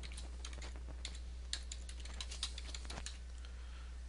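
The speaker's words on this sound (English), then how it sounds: "You want to type in the account name" Computer keyboard typing an account name, quick irregular clicks of keys, close and fairly faint over a steady low hum.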